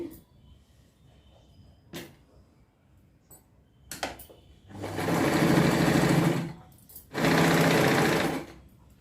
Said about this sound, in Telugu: దీన్ని ఒక మడత ఇలా మడిచేసి ఇక్కడ మరలా స్టిచ్ చేయాలండి